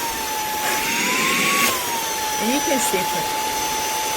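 A WADEO cordless 3-in-1 handheld vacuum cleaner switches on and runs with a steady high-pitched whine and airy motor noise, close and continuous, while a voice speaks briefly over it.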